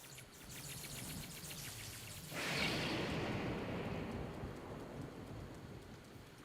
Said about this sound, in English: Alright, I'm a little sick of this rain.